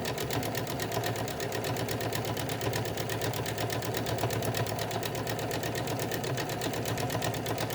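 A sewing machine stitches pleats on a fabric face mask, running in a loud, steady, rapid mechanical rattle that continues without a break.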